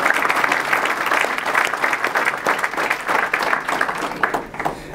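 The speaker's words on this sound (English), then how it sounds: "How about a round of applause for them?" Dinner audience at a Niagara University baseball first pitch dinner applauds steadily, a dense wash of many hands clapping close and loud throughout, tapering slightly at the end.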